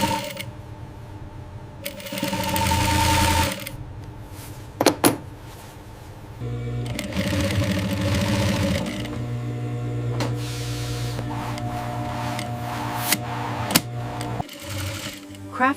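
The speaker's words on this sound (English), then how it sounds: "The upper and under sleeve pieces are sewn together along the underarm seam." An industrial sewing machine stitches the underarm seam of a leather jacket sleeve in a factory, with loud steady mechanical whirring runs broken by short pauses and sharp clicks, heard close.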